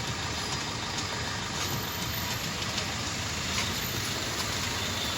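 A Maruti Ertiga engine idles steadily at around 800–900 rpm while the brakes are pressed, giving a constant close broadband rumble with no voices.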